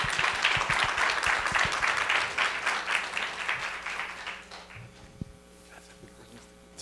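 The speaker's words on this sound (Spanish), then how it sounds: "un aplauso a Carmen" A crowd applauds steadily for several seconds, the clapping thinning and fading out near the end, with a brief thump and quiet room noise after.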